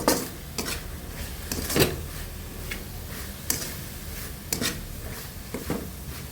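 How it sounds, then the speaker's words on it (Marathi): Grated coconut and sugar stirred in a pan over a low flame: faint, irregular scrapes and ticks of the spoon against the metal, with quiet sizzling underneath and no talking. "पूर्ण साखर विरगळायला तोपर्यंत सारखा असं मंद आचेवर हलवत राहायचं"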